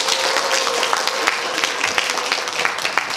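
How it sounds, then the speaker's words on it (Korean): A museum humanities lecture audience gives a warm, continuous round of applause to welcome a newspaper journalist as guest speaker, dense clapping throughout with a faint steady hum beneath. "큰 박수로 맞아주시기 바랍니다"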